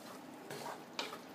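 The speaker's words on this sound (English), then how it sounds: "Stir this around." Jambalaya being stirred in a Lodge cast-iron Dutch oven, a soft close scraping and shuffling of rice and ingredients against the pot with faint sizzle, a brief spoon clink near the end, no voices.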